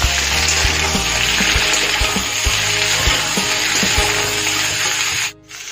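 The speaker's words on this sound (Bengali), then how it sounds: "আলুগুলো ভাজা ভাজা হচ্ছে, ফুলকপিগুলো দিয়ে দিই। ফুলকপিগুলো এর সাথে ভালো করে ভেজে নেব" Potatoes and cauliflower fry in a pan after the eggplant, giving a steady, close, loud sizzle with periodic low knocks of stirring. It runs unbroken and stops abruptly near the end.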